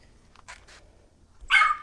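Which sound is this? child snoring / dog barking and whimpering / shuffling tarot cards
dog barking and whimpering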